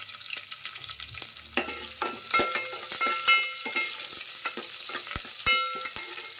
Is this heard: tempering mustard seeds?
yes